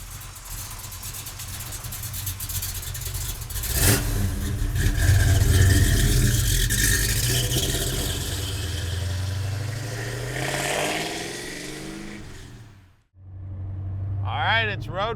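A 1973 Plymouth Road Runner V8 rumbles loudly nearby, building through a few throaty revs and settling back to a lumpy idle, with a person talking over the engine at times.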